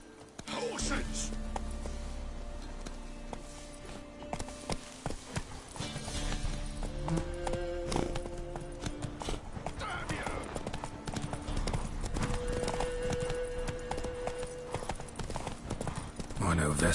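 Horse hooves clip-clopping at speed in a video game, a rapid rhythmic clatter running steadily beneath frequent character dialogue and a background score.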